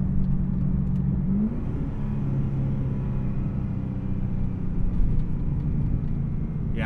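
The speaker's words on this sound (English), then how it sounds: "My exhaust isn't crazy loud or anything, but I'm hoping this microphone can pick it up okay." Exhaust of a 2012 Chevrolet Caprice with a manual shift conversion and electronic throttle, a steady low engine rumble with a slight rise in revs, moderately loud and continuous with no talking.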